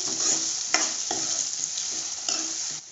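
Spices being stirred into sabudana khichdi in a pan, a steady sizzle with repeated scraping strokes of the spoon at regular intervals, close and clear, no talking.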